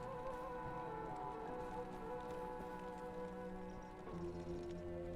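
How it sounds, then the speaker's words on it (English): Desert rain in Diablo 2 Resurrected patters steadily as a quiet, even hiss under faint tonal game ambience, with no speech. "Welcome to the desert rain."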